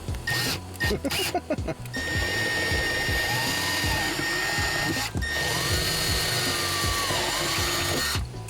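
A power drill bores holes for a KFLO track mount, a steady whining buzz sustained for several seconds, pausing briefly once before running again, with clicks and handling noises at the start.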